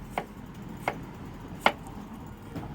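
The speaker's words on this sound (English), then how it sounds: "Then you're just going to go chop it up." Knife chopping through dragon fruit on a cutting board: four crisp, separate chops spaced about a second apart, close and fairly quiet over faint room tone.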